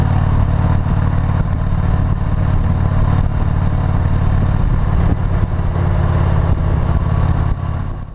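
A motorcycle cruising along a Florida road gives a loud, steady engine drone with heavy rumble and wind noise throughout, easing slightly in the final moment.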